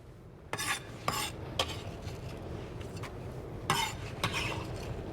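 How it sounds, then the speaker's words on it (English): Chopped onion tipped from a board into a slow cooker, heard as several sharp scraping and clattering bursts against the crock over a low kitchen background, with no talking. "let's go ahead and get our onion in the slow cooker"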